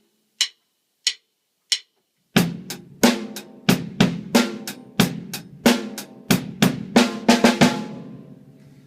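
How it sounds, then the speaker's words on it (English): Rock drum kit plays a straight eighths beat. Three lone hi-hat taps count in, then steady eighth-note hi-hat strokes enter with kick and snare in an even, close, dry pattern. "A straight eighths feel is just eighth notes on the hi-hat,"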